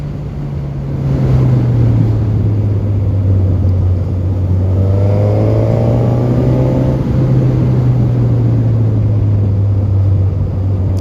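A 2021 Suzuki GSX-S 950 motorcycle in A2-restricted 47 hp form rides along, its engine a loud, steady drone that swells after the first second and holds with slight shifts in pitch, heard close with wind noise throughout.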